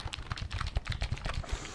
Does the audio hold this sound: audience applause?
no